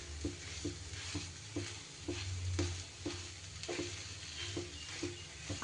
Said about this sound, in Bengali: নুনটা দিয়েও কিন্তু খুব ভালো করে এবার মশলার সাথে আলুটাকে মিশিয়ে নিতে হবে।